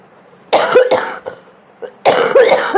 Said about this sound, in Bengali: এত কাশি হচ্ছে গো